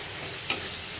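A brief scrape of mango being stirred in a pan with turmeric and salt, one soft sizzling swipe over a steady low frying hiss.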